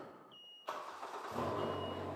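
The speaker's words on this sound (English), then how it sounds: "Let's hear this new engine start up." The new ProStar engine of a 2021 Slingshot R fires up with an abrupt start after a brief chime, settling into a steady close idle rumble that grows slightly louder.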